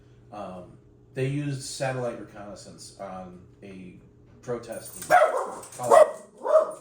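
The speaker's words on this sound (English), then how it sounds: "Sorry about my dog." A dog barks several times, close and sharp, near the end while someone talks over it.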